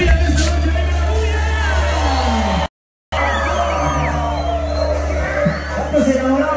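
Loud crowd cheering, whooping and shouting at a live marimba orchestra concert, a dense roar of voices with whistles that breaks off for a moment of silence, then swells again to the end.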